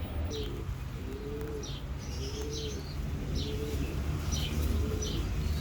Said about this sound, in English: Pigeon mothers and two babies inside the box